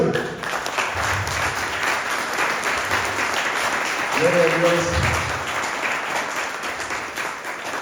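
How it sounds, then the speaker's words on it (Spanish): A church congregation applauding as an offering of praise, steady mid-level clapping under a voice speaking briefly partway through. "¿Por qué no le elevas una ofrenda de palmas al Señor?"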